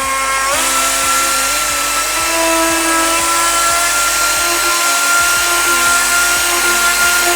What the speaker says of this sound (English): I'm gonna clean it up with this little die grinder here